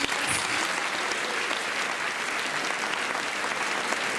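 Sustained applause from an audience at a beauty pageant, a dense steady patter of clapping hands filling the whole stretch.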